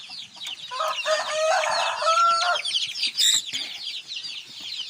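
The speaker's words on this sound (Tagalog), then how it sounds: "Ito ang mga manok nila." Shamo and Aseel chickens cluck close by while a rooster crows loudly partway through, with other birds chirping in the background and no talking.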